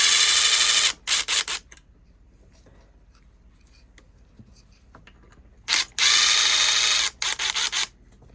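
A power tool whirs in loud bursts while the muffler bracket is removed from a Husqvarna 395 XP chainsaw, with short stuttering pulses between longer runs and a quiet gap in the middle.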